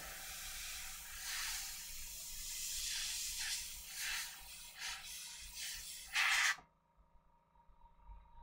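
An airbrush sprays paint onto a miniature in a series of soft hissing bursts, ending in a louder close blast that cuts off into near silence.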